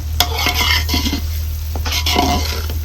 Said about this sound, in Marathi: सगळं चांगलं हलवून घ्यायचंय